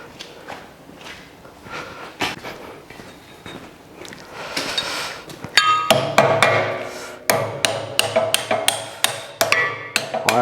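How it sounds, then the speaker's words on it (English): Metal taps ring out as a pin is driven in with a punch and drift, starting as scattered light knocks and building to a run of sharp, loud, evenly spaced hammer blows nearby. "I'm going to get a punch and drift that in."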